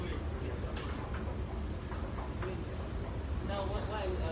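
A tram rolls along its line in Dubai, making a continuous rumbling ride noise with clattering and rattling throughout, and chatter mixed into the steady din.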